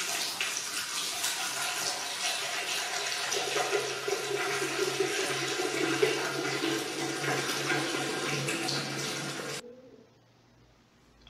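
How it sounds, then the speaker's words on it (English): Water pouring steadily into a giant glass prism, a continuous splashing, gurgling rush that holds for about nine seconds and then cuts off abruptly into near silence. "fill the prism with water"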